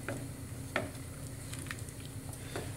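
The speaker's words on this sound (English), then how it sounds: "I'm going to give this a little stir." Onion soup stirred in a pot for French onion soup, with soft scraping along the sides over a low, steady simmering sizzle and a few light utensil knocks.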